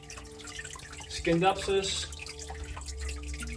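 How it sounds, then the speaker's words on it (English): Water from a small waterfall in a planted terrarium trickles and drips softly and close, continuing under a person talking. "there is the waterfall"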